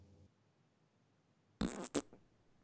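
A fart noise cuts through a podcast discussion about gameplay changes, one loud blurt followed by a second short burst, clear against a quiet background with no talking over it.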